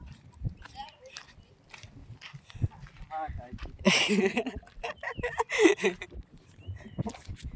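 Chickens cluck and squawk close by, with a burst of flapping and scuffling midway, while people talk over the birds.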